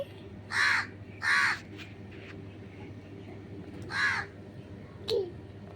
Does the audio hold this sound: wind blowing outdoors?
no